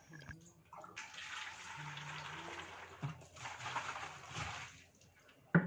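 Water pours and splashes into a container as powdered poultry medicine for ducks is mixed into drinking water, two steady rushing bursts close by with small knocks between them.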